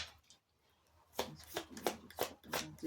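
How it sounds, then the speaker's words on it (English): Deck of cards being shuffled by hand close up, a series of quick riffling bursts in an uneven rhythm after a brief quiet start. "Let me just shuffle the cards a bit."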